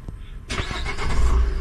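An RV's engine, left unused for four or five days in freezing weather, cranks briefly and then catches, settling into a low, rumbling idle close by.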